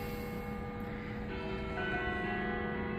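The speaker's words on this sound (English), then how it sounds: "there's plenty of church bells from down the street that are ringing as I do this" Church bells ring from down the street, a distant, steady sustained tone that lingers over faint outdoor ambience.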